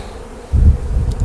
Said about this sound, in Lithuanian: Purtom bitės mes štai čia.